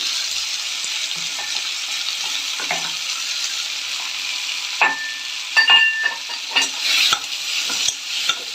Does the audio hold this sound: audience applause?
no